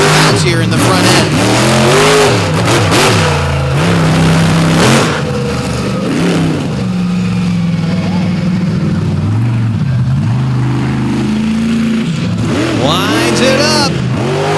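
Monster truck engine revving hard at a nighttime Throwdown in Benson show, loud and continuous with rising and falling pitch sweeps as it winds up, under a commentator's running talk.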